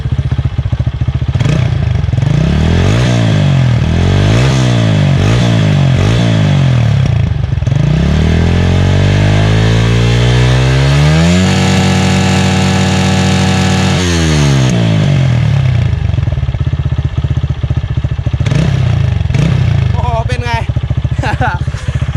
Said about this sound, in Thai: โอเคเสียงท่อก็ประมาณนี้นะครับทุกคน